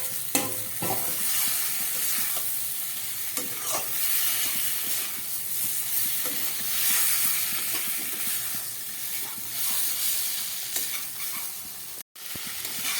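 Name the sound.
fried potatoes added and stirred into prawn curry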